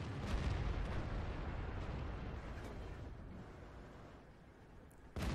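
M103 tank cannon fire in World of Tanks, a rumbling boom with a long, low roaring decay that fades over several seconds before another blast begins at the end.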